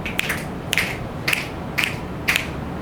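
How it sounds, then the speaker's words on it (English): An audience snaps their fingers together in unison, five sharp crisp clusters of snaps evenly spaced about half a second apart, over a low room murmur. "So I'd love for you to represent units with a snap. Everyone snap."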